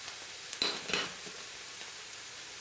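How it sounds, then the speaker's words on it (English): Butter sizzles steadily in a stir fry pan, a soft broadband frying hiss with a couple of brief louder stirring scrapes near the start, no talking. "now I think I'm going to add a little bit more butter"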